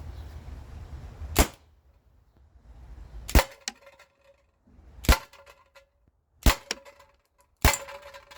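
Slingshot shots strike a target that they hit without penetrating: five sharp, loud impact cracks spaced a second or two apart, each with a short metallic ring, over a quiet background.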